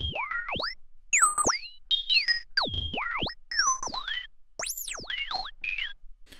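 Synthesized R2-D2 droid chirps made in the Serum synth: a rapid series of warbling, sweeping electronic beeps and whistles, up and down in pitch, loud and alone with short gaps between phrases.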